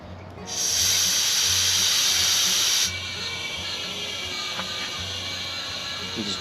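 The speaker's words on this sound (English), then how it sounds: "I can hear it transferring the pressure over." Propane hissing through a check valve as it transfers between bottles while refilling a one-pound cylinder: a loud, steady hiss that drops abruptly to a quieter continuous flow partway through, with no talking.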